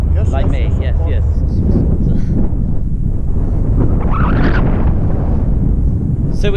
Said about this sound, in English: So is the wind today how it normally is?